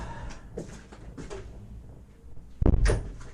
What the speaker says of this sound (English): Closing my door.